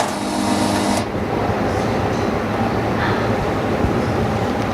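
A large film laminating machine runs on iPad glass with a steady mechanical hum and rumble; a higher whine cuts off after about a second, then the motor drones on evenly, close and moderately loud.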